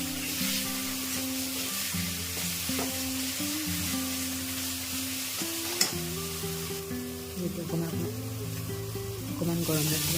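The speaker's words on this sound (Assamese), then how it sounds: "হালধি দিও ধুনীয়াকৈ ইয়াতে ভাজি ল'লোঁ।" Tomato masala with turmeric fries in a pan, a loud, continuous sizzle lasting about ten seconds. Occasional stirring clinks and scrapes cut through, with a low droning hum beneath.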